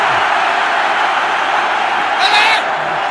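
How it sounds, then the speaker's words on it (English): The crowd at an India vs Pakistan cricket Test match in Chennai in 1999 roars steadily, a dense wash of cheering with a brief louder whoop, heard under a commentator's talk. "Huge cheer from the crowd."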